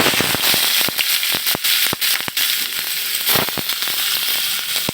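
Bay leaves and chopped onion hitting hot oil in a pan of rohu fish bhuna, a loud, dense sizzle with sharp crackling pops spattering irregularly throughout.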